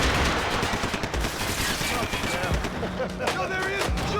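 Dense, rapid gunfire in the video game Max Payne 3, loud and close, with overlapping bursts that sound like automatic fire and brief voices shouting beneath it.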